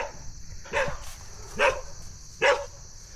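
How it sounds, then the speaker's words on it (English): Three single dog barks spaced about a second apart, moderately close, over a quiet background with a steady high hiss. "What are you barking about?"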